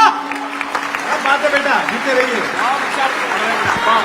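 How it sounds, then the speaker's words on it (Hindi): An audience at a Hindi poetry gathering breaks into applause, a dense wash of clapping running throughout, with cheers and a voice over it. "एक बार अपने सम्मान की तालियां आप अपने लिए बजाइए।"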